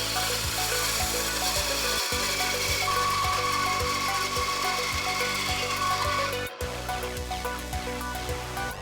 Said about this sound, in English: Cut some half-lap joints on the bandsaw.